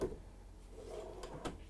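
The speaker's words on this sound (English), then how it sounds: "Full extension drawer glides on all your drawers." A full-extension drawer glide in the kitchen of a 2022 Newmar Supreme Aire 4573 motorhome makes a soft, quiet slide as the drawer runs open or closed, with no talking.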